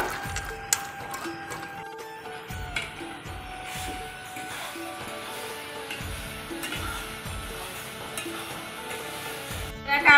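Boiled kabuli chickpeas tipped into masala frying in oil for a vegetarian chickpea and potato curry, giving a steady sizzle with repeated scraping stirs and clinks of a spoon against the pot, close and continuous.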